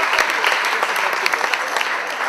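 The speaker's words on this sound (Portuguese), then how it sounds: "Acho que sim, acho que merece palmas." Audience applause at an annual business-school alumni dinner at the Ritz: a dense, steady patter of many hands clapping together, fairly loud and sustained for a couple of seconds with no talking over it.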